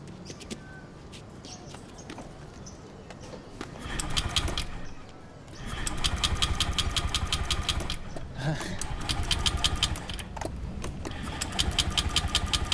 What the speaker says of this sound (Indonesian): Naik motor aja lah ya.